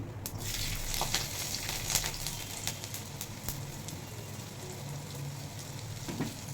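Nigella seeds, radhuni and garlic sizzle in hot oil, a steady close crackling hiss with scattered sharp pops throughout.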